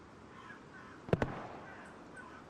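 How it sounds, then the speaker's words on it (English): Two quick sniper rifle cracks sound close together in a 49 vs 49 online shooter match on the Kharkov map, standing out briefly over a faint, steady background. "Initial snipes going out."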